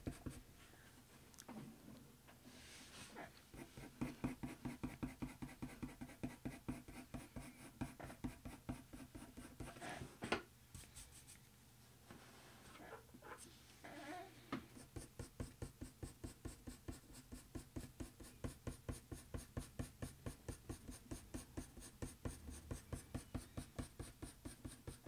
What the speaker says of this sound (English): So in a second I'm going to blend with the white pencil just to try and bring everything together and make it really nice and smooth.